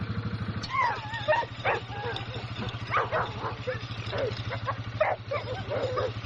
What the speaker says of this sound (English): hopefully we can get all these dogs in on this video